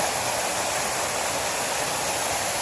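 Water tumbles over a natural rock formation as a small waterfall, producing a steady, close, unbroken rush of white noise with no voices.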